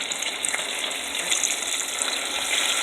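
Okra frying in hot oil, breaded before cooking, giving a steady close hiss and crackle that runs unbroken for the whole stretch with no voices over it.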